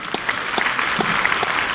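Audience applause at a children's fashion theatre concert in a music hall, a dense, steady patter of many hands clapping close and loud for nearly two seconds.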